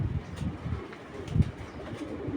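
A khaki pigeon coos softly in low, rounded pulses at close range, its murmuring calls repeating against a quiet background.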